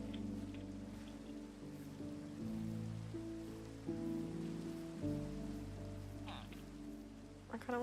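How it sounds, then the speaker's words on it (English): Steady rain hissing on the ground in Minecraft, a soft, even wash that runs the whole time beneath sustained in-game music tones. "Oh, it's raining again."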